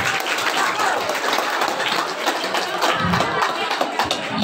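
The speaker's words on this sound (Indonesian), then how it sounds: "Kasih nilai aplaus buat yang terbaik sore hari ini." An audience at a university orientation closing ceremony gives dense, sustained applause for the best student, many hands clapping at once under a bit of crowd noise.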